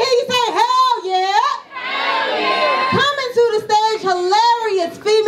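A live comedy show audience shouts back in unison, a loud, ragged chorus of many voices yelling a call-and-response cheer in several bursts, close and energetic.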